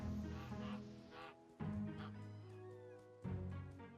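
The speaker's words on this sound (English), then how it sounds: "Those geese are well noisy." Geese honking in the farming video game Echoes of the Plum Grove, repeated nasal honks and quacks in bursts over a steady background hum, fairly close and moderately loud.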